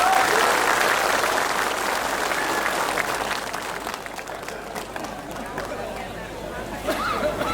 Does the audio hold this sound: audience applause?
yes